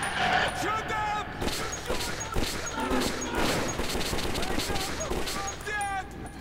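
Gunfire from the video game Metro 2033, dense bursts of shots and crashes filling the whole stretch at close, loud level, with shouting voices mixed in over the chaotic firefight.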